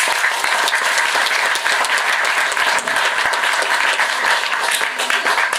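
Audience applause at an Islamic study gathering with Javanese speakers, a dense, steady wash of clapping that fills the whole stretch without pause.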